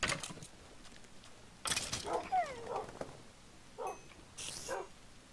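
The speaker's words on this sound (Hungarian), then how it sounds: "Jó van, szétszedik a kutyák." Minecraft dogs (tamed wolves) fighting mobs give a few sharp yelps and barks mixed with combat hit sounds, moderately loud bursts with brief pauses and no talk.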